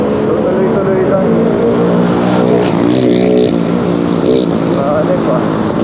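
A 2024 Honda Click 125 scooter, special edition, being ridden on an evening road, its engine droning steadily and close with wind rush throughout while someone talks over it.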